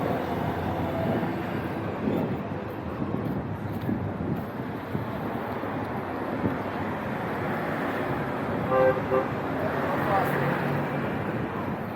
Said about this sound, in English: the traffic is a little bit crazy right now because of the load shedding